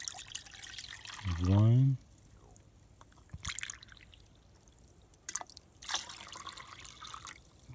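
Water poured into a metal canteen cup for grits, a short rising gurgling pour with a ringing pitch, followed by a few faint clinks and rustles while someone talks quietly.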